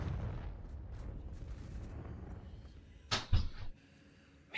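A Confringo fire spell from Hogwarts Legacy, played on Nintendo Switch, bursts in a loud, sharp explosion. A brief second blast follows over a rumbling background of game ambience.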